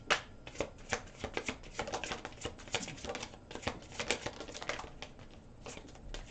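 Slippery tarot cards are shuffled and handled, producing rapid, close, crisp flicking and tapping in an uneven rhythm throughout, quiet, with no speech.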